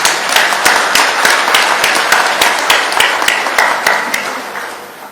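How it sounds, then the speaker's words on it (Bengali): A large audience applauds loudly at a public address in Bangladesh about the police force, with dense, sustained clapping and sharp individual claps standing out throughout. "সবাই মিলে আপনার জোরে হাততালি দেন।"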